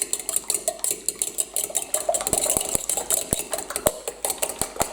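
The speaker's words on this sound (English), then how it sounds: "I'm going to add a little bit of salt and give them a good mix" Sliced potatoes get tossed with salt in a bowl for a Spanish omelette, with sharp clinks and taps of a utensil against the bowl in quick irregular bursts over a soft, hushed background.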